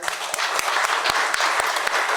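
An audience applauds together at a spiritual talk on Shirdi Sai Baba's philosophy, a steady wash of many hands clapping at fairly close range throughout, with individual louder claps standing out and no voices.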